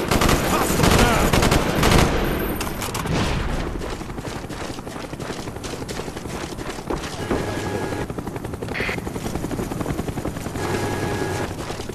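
Cobra helicopter arriving in a first-person shooter team deathmatch game, rotor roar mixed with bursts of gunfire and explosions, loud and continuous throughout with game effects layered on top.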